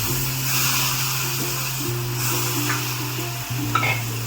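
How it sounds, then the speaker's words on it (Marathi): About half a kilo of eggplant goes into hot oil in a pan for a Maharashtrian vangyachi bhaji, producing a continuous close sizzle and scraping from stirring over a low hum. "ती वांगी घालते मी"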